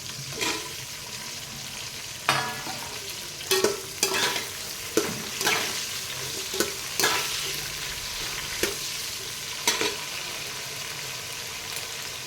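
Onions and tomatoes fry in a pan for a Chettinad fish curry, with salt added, giving a steady sizzle broken by a dozen sharp scraping stirs at an irregular pace, close and fairly loud.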